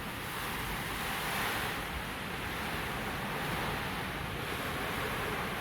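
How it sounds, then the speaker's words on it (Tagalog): Strong typhoon wind blows in a steady, roaring rush that never lets up, a dense close-up howl with the hiss of driven rain and buffeting against the microphone, and no voices. "Pero ayan o, ang lakas ng hangin."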